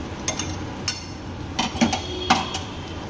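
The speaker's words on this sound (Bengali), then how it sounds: "এইভাবে করে নেড়ে নেব।" A spatula stirs chopped bottle gourd with pre-fried shrimp in a pan, cooked with little oil and spice: close, irregular metallic clinks and scrapes against the pan over a steady low hiss, with no talking.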